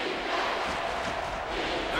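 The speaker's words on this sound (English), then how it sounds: "The crowd is really letting them hear it." A college football stadium crowd at a Boise State versus Missouri game roars continuously, a dense, loud wash of cheering and yelling that holds steady throughout without a break.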